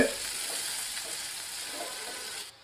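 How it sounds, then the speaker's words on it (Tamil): Onion and garlic sauté in salted oil, giving a bright, even hiss of sizzling close up that fades slightly before cutting off, with no voice. "இந்த வெங்காயமும் பூண்டும் சூப்பராக வதங்கிடுச்சு"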